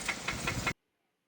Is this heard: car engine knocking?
yes